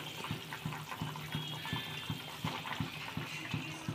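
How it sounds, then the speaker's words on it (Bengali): Water poured into a simmering fish curry with greens, a steady close splashing stream that runs for a few seconds alongside faint cooking noise. "এবার জল দিয়ে দেব পরিমাণ মতো।"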